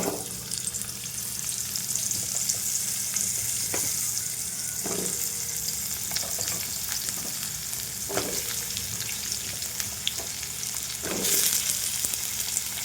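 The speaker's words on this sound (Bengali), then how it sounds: "এবার পেঁপেটা ভেজে নেব।" Papaya pieces seasoned with salt and turmeric frying in oil in a pan, a continuous close sizzle with occasional utensil knocks and stirring scrapes.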